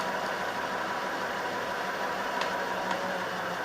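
A Sewer Slinger drain cleaning machine's motor runs steadily at about 198 RPM, giving a continuous, even mechanical hum and whir at moderate volume with faint ticks.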